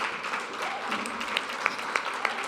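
Audience applauding at a charity gala, a steady wash of many hands clapping in a large room, moderately loud and sustained, with a few sharper individual claps standing out near the end.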